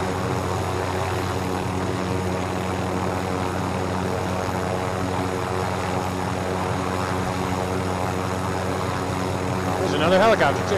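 A helicopter flies steadily in Call of Duty Warzone, a continuous close rotor and engine drone with strong humming tones, and a voice briefly speaks near the end.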